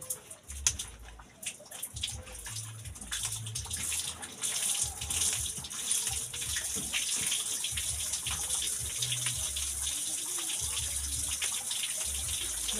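Water runs and gushes steadily, overflowing with a continuous splashing rush and scattered drips and knocks, fairly close and getting fuller partway through, with no one talking.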